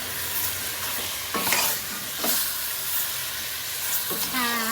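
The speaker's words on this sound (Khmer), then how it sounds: "ឆាឲ្យត្រីហើយនឹងសាច់ជ្រូកហ្នឹងវាចូលជាតិគ្នាជាមួយទឹកត្រី" Fish and pork stir-fried with fish sauce in a pan for a Khmer soup, giving a steady close sizzle and hiss with a few scraping stirs of the utensil.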